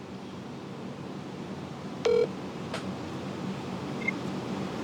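A single short electronic phone tone sounds once over a faint background hiss.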